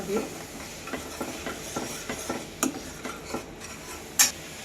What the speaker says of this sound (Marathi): आता आपल्याला हे मसाला आहे ना चांगला तळून घ्यायचा आहे त्याला